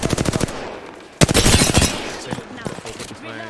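Rapid automatic gunfire rattles in Apex Legends, a burst of evenly spaced shots, a brief pause, then a louder dense burst that trails off, with a voice speaking briefly near the end.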